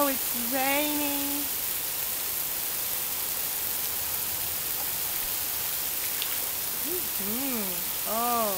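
Rain pours as an even, constant hiss from start to finish, while vocal sounds or chirps rise over it briefly at the beginning and toward the end.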